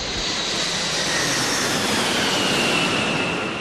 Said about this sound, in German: Merken Sie, wie das Flugzeug langsam verschwindet?